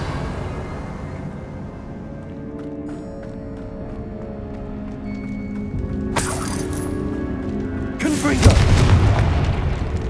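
A Revelio spell cast in Hogwarts Legacy, heard as a shimmering magical burst and a booming, crackling flare over steady game music, with a second heavier impact near the end.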